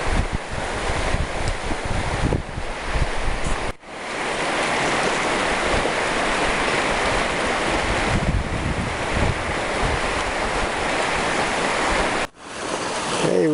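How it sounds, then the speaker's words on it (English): Strong wind gusting through trees during a windstorm at an outdoor gold-sluicing site, a loud, steady roar of buffeting air and rustling foliage, briefly interrupted twice by sharp microphone dropouts, with no talking. "The wind's still blowing like crazy. I'm sure you can hear it. Trees are going nuts."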